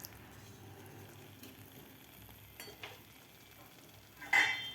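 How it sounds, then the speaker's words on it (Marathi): Spoon stirring tondli (ivy gourd) bhaji with salt in a pan, giving a faint, steady scraping and light sizzle, with a few soft knocks and a brighter clink of utensil against metal near the end. "मीठ घातल्यानंतर व्यवस्थित आपल्याला मिक्स करून घ्यायचं आहे"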